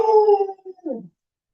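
A single dog lets out a drawn-out, wavering howl that sags in pitch and ends in a short whining yelp, close and fairly loud, followed by silence.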